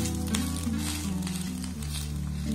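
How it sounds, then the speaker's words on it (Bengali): Shaped bread sweets for malai roll crackle and sizzle in hot ghee, giving a steady, close frying hiss throughout. "ঘির মধ্যে দিয়ে এটাকে একটু ভেজে নেব।"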